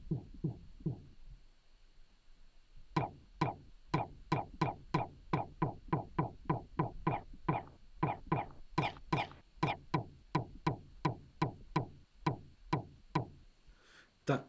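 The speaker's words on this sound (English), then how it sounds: "that is an extremely thin kick." A thin, synthesized kick drum in Ableton repeats in a steady, rapid pattern of short, clicky hits lacking low-end weight, with a brief pause early on before the sequence continues evenly to the end.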